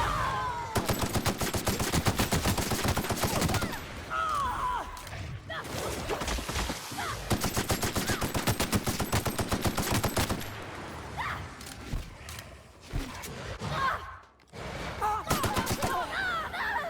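Dense bursts of automatic gunfire from a video game, rapid rattling volleys that stop and start over several seconds, with quieter gaps and faint voice sounds between them.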